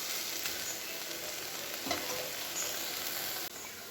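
Vegetable tops frying in a pan, a soft continuous sizzle with light stirring, fairly faint and steady throughout.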